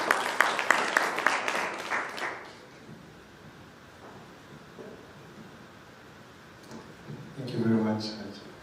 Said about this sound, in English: A round of applause for Michael as he comes on stage.